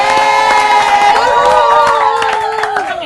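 Audience cheering and clapping for the cast of the film Para Perasuk at a public event: close, loud, sustained shrill shouts and screams ride over scattered applause throughout.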